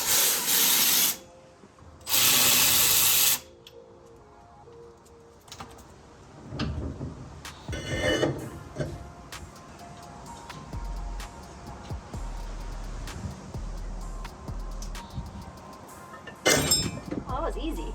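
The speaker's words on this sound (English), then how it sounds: "It's easier to pull them out when it's like this instead of loose." Rear axles are worked out of an 8-inch rear end on a Maverick. Two loud, harsh mechanical bursts are followed by scattered clanks, metallic knocks and scraping, with people talking throughout.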